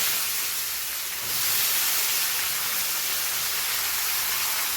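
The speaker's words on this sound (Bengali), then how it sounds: "এখন এই সম্বরের মধ্যে পেঁয়াজ কুচি দেব।" Chopped onion dropped into hot oil tempered with bay leaf and radhuni, giving a steady, close, loud sizzling hiss that swells after the first second and holds.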